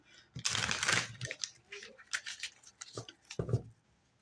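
Crisp papery riffling bursts of tarot cards being shuffled, a longer flurry at first then a few shorter taps and flicks, close up.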